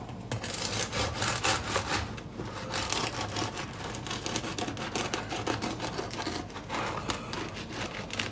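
A knife saws through a freshly baked, still-hot homemade bread loaf, cutting it in half with a steady, close, scratchy back-and-forth rasp that continues for several seconds, with no talking.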